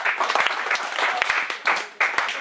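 Congregation applauding during a church service: dense, lively clapping in uneven surges, with voices mixed in beneath.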